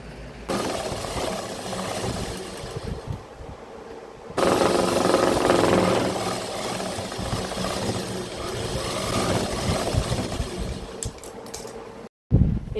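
A sewing machine stitches the fabric of an A-line frock in a steady, rapid mechanical chatter. It runs close and continuous for most of the clip, with a short start and a brief stop near the end.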